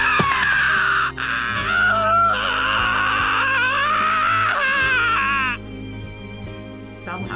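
A woman's high, strained shriek from the visual novel The Fruit of Grisaia, held for several seconds with a wavering pitch before it breaks off, loud and close, with faint low background music underneath.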